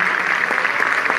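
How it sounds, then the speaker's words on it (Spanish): Audience applause at a folk dance marathon in Xalapa, a dense, continuous wash of clapping from a crowd, steady and fairly loud throughout without pauses. "al maestro Raúl Collón Vera, al quien quisiera brindar un fuerte aplauso, que está por allá en cabina,"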